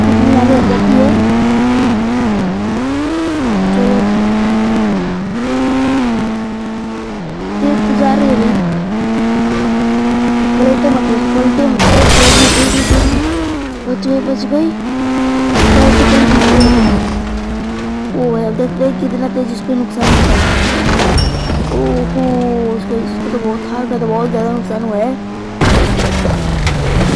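A Mahindra Thar driving a mega ramp in a video game, its engine whining up and down through gears with repeated revving sweeps, punctuated by several loud crashing bursts, with someone talking over it.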